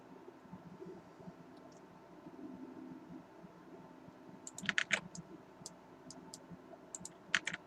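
Keyboard keys clicking in a few quick clustered bursts while entering an event name in the Unreal Engine 4 editor, faint and close over a low steady hum.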